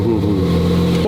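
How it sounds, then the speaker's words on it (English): A Ferrari 458 Speciale engine fires up, a short, loud, close burst of deep mechanical rumble that settles into a steady growl. "has given us permission to start the 458 Speciale"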